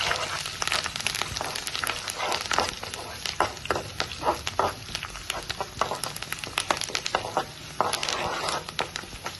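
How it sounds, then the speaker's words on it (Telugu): Curry leaves and small pieces crackle and sizzle in hot oil as a tempering fries in a pan, a steady dense patter of pops close by with no talking. "తాలింపు కూడా ఫ్రై అయిపోయింది"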